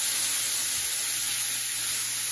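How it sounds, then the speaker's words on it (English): Vegetables sautéing in sausage grease in a pan for dirty rice, giving a steady, close sizzling hiss that runs evenly throughout with no voices. "And I'm just going to saute them to their a little translucent."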